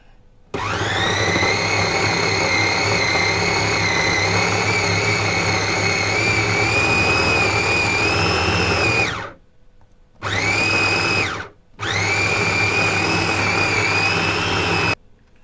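Blender chopping half an onion with minced meat: a loud, steady motor whine that runs for about nine seconds, then two shorter pulses after brief pauses.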